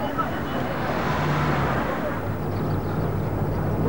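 Steady city traffic in Thimphu, Bhutan, a continuous wash of road noise from passing cars and motor vehicles at a moderate distance, constant throughout with no talk.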